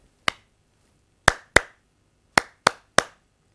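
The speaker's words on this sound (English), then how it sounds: "Students, we are clapping in a particular sequence or we can say pattern." Six sharp, separate hand claps fall in a counted pattern of one, then two, then three, each crisp and close with clear silence between the groups.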